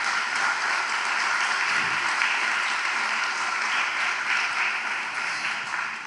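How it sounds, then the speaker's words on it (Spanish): A church congregation applauds the Lord with a steady, moderately loud wash of clapping that stays even and continuous, with no speech over it. "denle un aplauso al Señor entonces"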